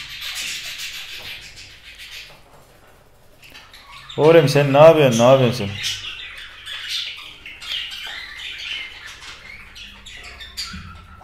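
Pet parrots squawk and chatter in a shrill, busy burst in a room, with a loud warbling call standing out midway, while someone talks over them.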